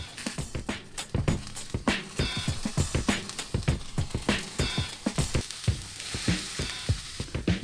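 Food sizzles in a frying pan over low heat after being flipped, a cheese-topped dish crackling with quick rhythmic spits and pops, steady and close.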